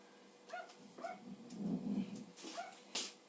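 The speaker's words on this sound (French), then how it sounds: "C'est mon chien qui aboie à la fenêtre." A dog barks at a window from a basement-distant spot, several short faint barks and yips with a whimpering stretch between them, spaced irregularly and fairly quiet.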